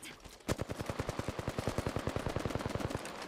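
Rapid automatic gunfire in a video game firefight, a steady burst of evenly spaced shots lasting about three seconds after an opening blast, loud and close.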